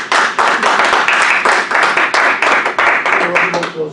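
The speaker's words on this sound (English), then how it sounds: "Randy, let's give him a round of applause" A room at a Toastmasters meeting breaks into a round of applause, loud and close, with steady overlapping claps and brief voices under it.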